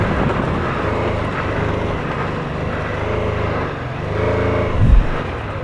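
BMW F450GS motorcycle ridden on a trial bike track, its engine a steady low drone with wind rush over the microphone, rising briefly near the end.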